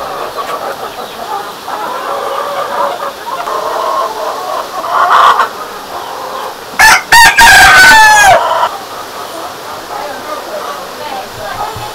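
On a chicken farm, hens and a rooster make noise. Voices and ambient sound come first, then a loud crow bursts out near the middle before the background settles again.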